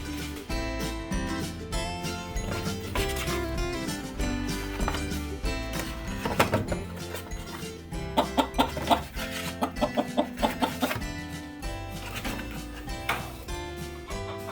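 Chickens cluck in a coop on a farm in freezing weather, a dense, continuous chorus of hen calls with sharper clucks clustering in the middle, close and steady.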